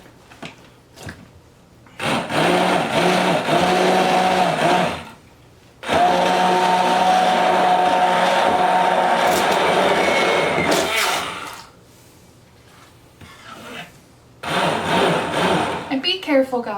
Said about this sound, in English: I put the blueberries in the bowl so I could immersion blend them